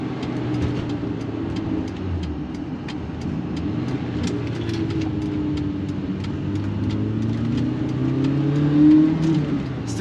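Engine of a 1988 BMW E30 M3 accelerating as the throttle rolls on, heard from inside the moving car as a steady mid-pitched drone that climbs gradually, with road noise underneath and no talking.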